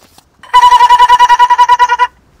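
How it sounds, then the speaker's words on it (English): A house telephone in a cabin rings loudly and close, one continuous electronic trill of rapid pulses lasting about a second and a half, with rain on the roof faintly behind. "That's the house phone that we have."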